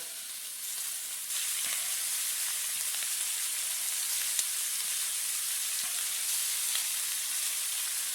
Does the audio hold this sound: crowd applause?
no